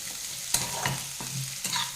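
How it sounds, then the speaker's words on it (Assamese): Chicken pieces frying in a pan for chilli chicken, a close, even sizzle broken by three sharp stirring scrapes of a utensil, with no talking. "এইখিনি এনেকুৱাকৈ অলপ সময়ৰ কাৰণে কোমলি যোৱালৈকে মই ভাজি ল'ম।"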